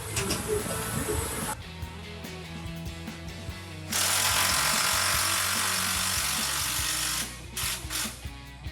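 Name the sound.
ratchet tightening muffler bypass pipe bolts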